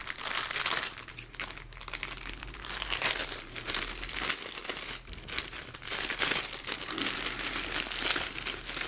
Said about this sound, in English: And we'll start with a big white bag here, which of course we have to cut open.